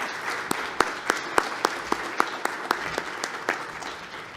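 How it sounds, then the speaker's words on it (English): A live audience at a 2019 healthcare quality summit applauds its three panelists, a steady wash of many hands clapping with a few sharper, louder claps standing out, fairly close and with no talking. "if we could just give a nice round of applause for our three panelists today"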